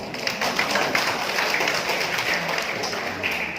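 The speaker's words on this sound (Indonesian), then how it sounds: "tepuk tangan dulu" An audience claps at a religious gathering in North Sulawesi: a steady, fairly close wash of many hands for a few seconds, with no speech over it.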